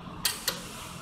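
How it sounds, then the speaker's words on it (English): A torque wrench set to 150 foot-pounds gives two quick, faint metallic clicks about a quarter second apart against a quiet background. "Once you hear your torque wrench click,"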